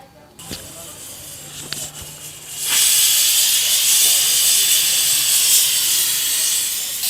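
A pressure cooker whistle vents steam in a loud, steady hiss that starts abruptly after a few faint knocks and continues without break to the end.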